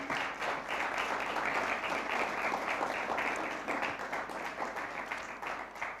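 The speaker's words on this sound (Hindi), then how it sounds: "तो यस्सु नाम के लिए ज़ोरदार तालियां।" Sustained applause from a large church congregation during a Sunday service, dense steady clapping that fills the whole stretch without letting up.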